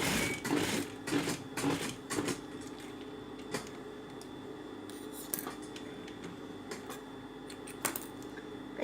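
A sewing machine stitching around a shirt sleeve that is being shortened from long to short: rapid mechanical clicking and whirring in a few short bursts, then quieter intermittent ticks, fairly faint and close.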